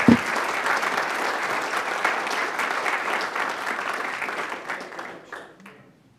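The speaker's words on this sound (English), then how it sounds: "let's give them one last round of applause." Applause at a city council meeting honoring police department staff, a room full of people clapping steadily for several seconds before fading out.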